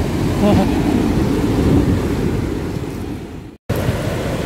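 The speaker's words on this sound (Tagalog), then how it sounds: "Grabe ang alon, guys." Winter ocean surf rolls and crashes at an elephant trunk rock formation in Taiwan, a steady loud wash with wind buffeting the microphone, cut by a brief dropout near the end.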